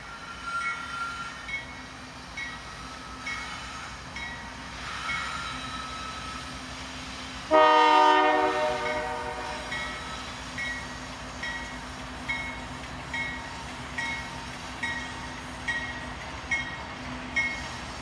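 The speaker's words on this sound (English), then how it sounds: "Here's a few other trains like this PDSE, a manifest originating in Portland, Oregon, and terminating in Seattle, Washington" A PDSE manifest freight train rolls past on the Seattle Subdivision, a long steady rumble with wheels clacking at regular intervals and a sudden loud metallic squeal partway through, then rhythmic wheel beats continuing alone.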